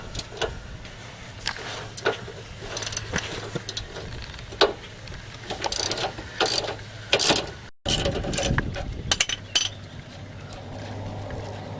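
A ratchet works at a 21mm nut on a rear shock bolt of a Trans Am WS6, giving irregular bursts of metallic clicking and clanking against a low steady hum, with brief pauses between pulls.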